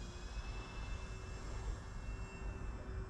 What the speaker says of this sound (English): I felt the air from that flyby.